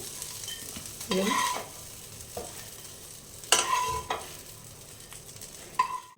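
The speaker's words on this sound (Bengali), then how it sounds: "বন্ধুরা, আমার মাছটা কিন্তু ভাজা হয়ে গেল দেখুন" A piece of fish fries in a pan with a steady sizzle, punctuated by several clear scrapes and clinks of a spatula against the pan, close and moderately loud.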